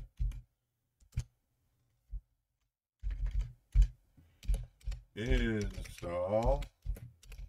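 Computer keyboard keys typing a terminal command on an Ubuntu-based Linux machine, a few scattered clicks and short bursts, fairly faint and close, mixed with someone speaking.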